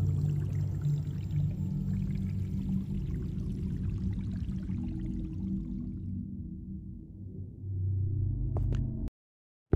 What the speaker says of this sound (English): It was just water. Look, it's just water.